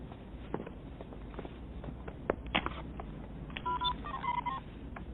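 A telephone is dialed in an office, a few sparse button tones over a low background murmur, with faint taps and shuffling nearby.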